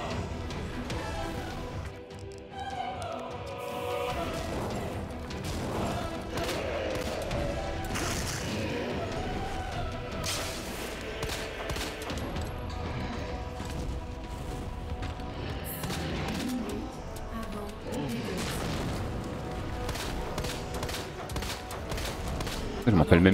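Gunshots in Resident Evil 2 ring out in scattered bursts amid crashes and mechanical clatter over a continuous game background, with a voice talking at times.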